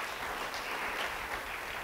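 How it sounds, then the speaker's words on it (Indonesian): A church congregation applauds in a dense, even patter of clapping that holds steady throughout a short stretch, with no voices over it. "Yang mau beri tepuk tangan bagi dia."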